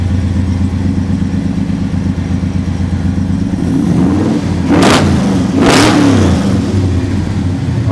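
A big supercharged V8 engine idles with a deep, lumpy rumble, then revs hard twice in quick succession, each roaring blip rising sharply and dropping back.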